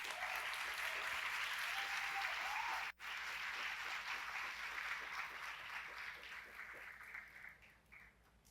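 A seated audience gives sustained applause to a speaker being welcomed at a heritage and memory event. The clapping is broad and fairly distant, breaks off briefly near the three-second mark, then resumes and slowly tapers off.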